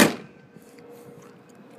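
Hood of a 2003 Ford Mustang Mach 1 shut with a single sharp close-range thump at the start, followed by quiet room tone.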